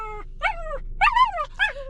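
An excited puppy whimpers and yips in several high, rising-and-falling cries, close and clear with brief gaps between them and no talking.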